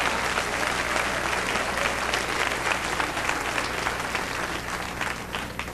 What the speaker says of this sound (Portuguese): Aplausos para o Deus da Bíblia.